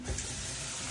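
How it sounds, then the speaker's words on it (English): Hot water running from a sink tap in a kitchen, a continuous close rushing hiss that starts with a brief burst and holds steady throughout. "Turn on our hot water."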